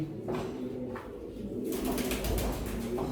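Domestic pigeons coo close by in a cold coop, soft repeated throaty calls in a low rolling rhythm over a faint hiss.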